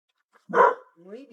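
A dog gives one short, loud bark up close outdoors on a rural house renovation site, followed by a brief stretch of voiced sound that may be more vocalizing or a person starting to speak.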